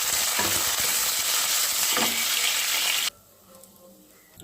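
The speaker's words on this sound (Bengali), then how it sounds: "এই তেলে আমি এবার পেঁয়াজগুলোকে ভেজে নিচ্ছি।" Onions fry in hot oil left from frying dried chillies, a loud, dense sizzle that carries on steadily, then cuts off abruptly to near quiet after about three seconds.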